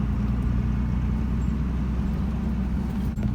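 Jeep XJ fitted with a Cummins diesel engine being driven, a loud, steady low engine drone and road rumble heard from inside the cab, with a brief dip near the end.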